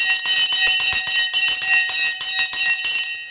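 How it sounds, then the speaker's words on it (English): The stock market opening bell rings loud and continuous, a rapid metallic clatter of repeated strikes that holds steady for several seconds before trailing off at the end. "The bell has now gone."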